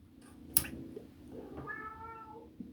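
A pet cat gives a single soft meow in a quiet room, faint and fairly close, with a sharp click just before it and a small tap afterward, and no talking.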